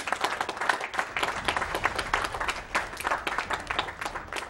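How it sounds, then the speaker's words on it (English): Steady applause from a crowd at the AGDQ 2014 video game speedrun marathon, dense clapping that keeps going at an even level throughout. "just applaud for that, because it's so good"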